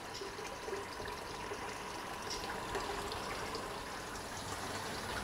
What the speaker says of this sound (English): Then I'm going to drain the water.